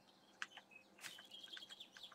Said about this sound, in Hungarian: Mi ez a madárcsicsergés?